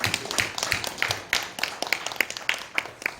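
Church congregation clapping in praise, a loose, uneven patter of distinct hand claps with rhythmic accents that rise and fall across a few seconds.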